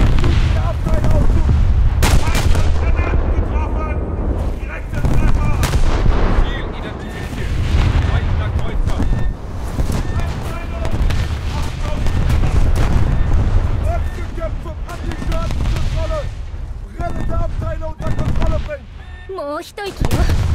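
Naval guns of the German battleship Scharnhorst fire repeatedly in War Thunder, heavy booming blasts and rumbling explosions over a dense battle din, with voices speaking over parts of it.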